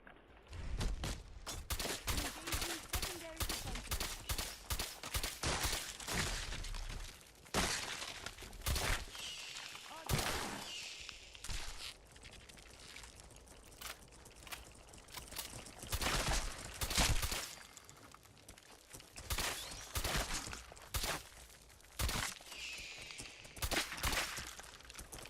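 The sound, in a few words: shotgun gunfire in a video game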